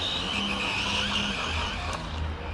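RC car, a Typhon, speeding across ground toward a gravel jump, a steady motor whine with gritty tire and surface noise, fairly loud and continuous without talk.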